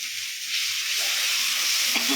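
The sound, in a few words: sautéing spice masala in a pan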